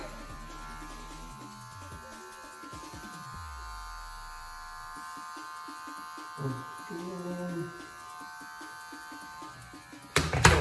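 Electric hair clippers buzz close up during a self-haircut, tapering the neckline with a number 1 guard, a steady hum that shifts in tone as the blade moves, with someone talking over it and a louder clatter at the end.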